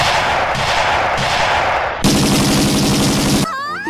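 Rapid cartoon gunfire bursts loud and dense throughout a comedy chase in which a cat and a fat mouse clash, the volleys shifting in texture midway before a brief whistling, zany sound effect at the end.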